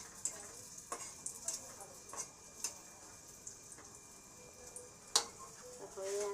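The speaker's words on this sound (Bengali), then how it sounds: "হয়ে গেছে সিঙ্গারা ভাজা।" Samosas deep frying in hot oil, a steady soft sizzle with scattered light ticks and clinks throughout, fairly quiet and close, with no talking.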